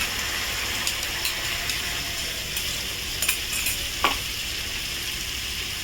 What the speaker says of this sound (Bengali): এটাকে নাড়াচাড়া করি